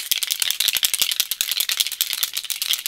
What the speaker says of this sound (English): Important, before you use, shake bottle for 5 seconds.